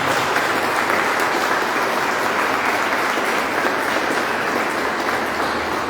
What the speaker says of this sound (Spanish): Vamos a darle un fuerte aplauso a Cristo.